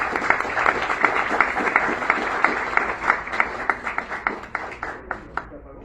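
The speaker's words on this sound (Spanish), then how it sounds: "Un aplauso." A small audience at a book presentation claps for several seconds, a dense patter of handclaps that thins out and fades toward the end.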